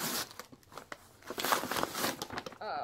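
A cardboard mail package holding books being torn open by hand, with close, irregular ripping and crinkling bursts across the clip; no talking is heard.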